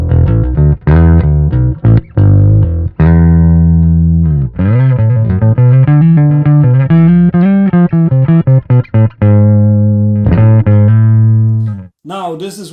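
An Epiphone Thunderbird Classic IV Pro bass with only the neck pickup on, bridge pickup turned off, plays a steady line of loud, full plucked notes and slides, close up and with no voices.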